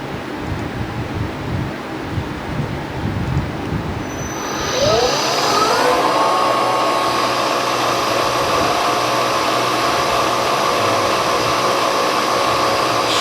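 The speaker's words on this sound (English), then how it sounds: "Turn my spindle on." Milling machine spindle spins up and runs steadily while cutting a radial engine cylinder head, a rising whine then a continuous loud mechanical drone over low rumble, no talk.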